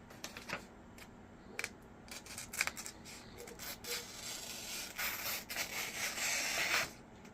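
A Benchmade clone knife cuts through a sheet of paper, with scattered small ticks and rustles giving way to a longer, louder rasping slice near the end, close and quiet.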